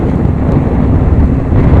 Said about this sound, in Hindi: जहाँ इतनी तेज तेज हवा चल रही है